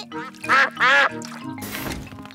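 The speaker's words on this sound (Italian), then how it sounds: "Anatre, avanti, dite grazie a papà Pig" Cartoon ducks in a Peppa Pig episode give two loud, nasal quacks in quick succession, followed by a brief soft splashy wash.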